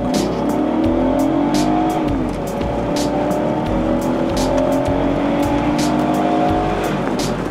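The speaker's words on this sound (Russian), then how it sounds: "давай ради интереса сейчас вот с места попробуем стартануть до соточки" A Volvo XC90 with a 4.4 litre V8 accelerates hard from a standstill to 100 km/h: a loud, close engine roar climbs through the revs, broken by several sharp gear shifts, with a constant drone throughout.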